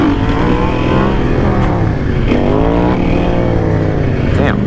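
A supermoto motorcycle engine revs hard in a city, loud and close, rising and falling through several throttle blips with no talking.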